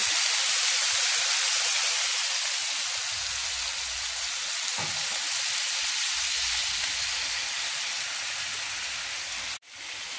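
Minced meat stuffing for stuffed aubergines and tomatoes sizzles loudly in a pan after half a glass of water is poured in, a strong continuous hiss of steam and bubbling that eases slightly near the end.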